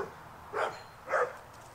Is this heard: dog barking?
yes